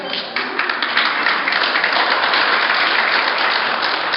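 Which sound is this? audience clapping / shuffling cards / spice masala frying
audience clapping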